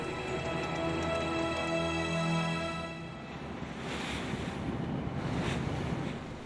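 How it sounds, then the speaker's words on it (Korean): Rough sea off Geomundo island, heard from a fishing boat at sea in the morning: a heavy, continuous roar of waves and wind with low engine hum underneath, loud and steady with surges. "아침부터 파도가 심상치 않네요"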